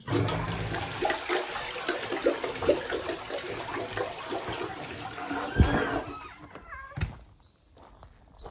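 A toilet flushing, a broad rushing wash of water that stays steady for several seconds before tapering into trickles and faint refill sounds, with a couple of sharp knocks near the end.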